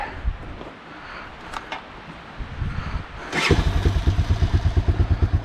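An off-road motorcycle at a trailhead, its carburetor freshly tuned, fires up after a few seconds of quiet rustling and settles into a loud, steady, close putter that pulses rhythmically.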